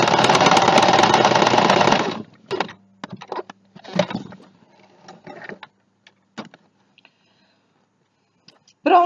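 A sewing machine runs steadily for about two seconds stitching a seam on a baby towel, then stops, leaving only faint scattered clicks and handling noises.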